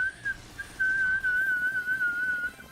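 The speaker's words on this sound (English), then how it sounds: "Dang, I can't whistle?" A person tries to whistle while drawing, producing a thin, wavering, breathy whistle tone that falters briefly, then holds fairly steady for about two seconds at close range.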